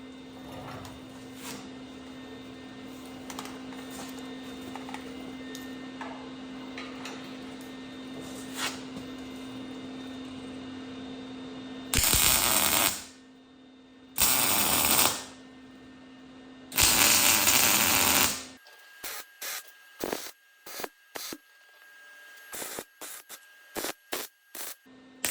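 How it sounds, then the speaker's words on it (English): Tack welds being laid on the rear rail of an OBS truck frame: three loud bursts of arc crackle, each one to two seconds long, break a steady shop hum, followed by scattered short pops and clicks. "I'm gonna go ahead and tack the rear rail on now"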